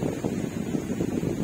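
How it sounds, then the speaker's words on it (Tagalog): Strong wind at a riverside campsite buffets the microphone in a constant low rumble with gusty swells, no voices heard. "very windy afternoon"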